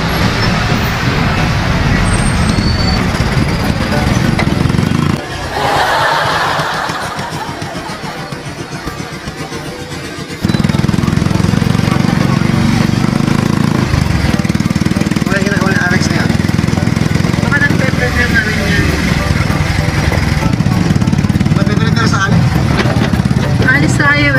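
A tricycle rides through busy Blumentritt street traffic, its motor rattling loudly and constantly amid surrounding road noise, with people talking over it and a brief quieter stretch midway.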